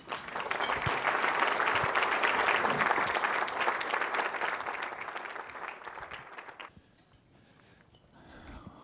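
A large conference audience at the AIC 2015 keynote breaks into loud sustained applause welcoming Nestlé figure Peter Brabeck-Letmathe, the clapping swelling then tapering off into near quiet before a few scattered claps at the end.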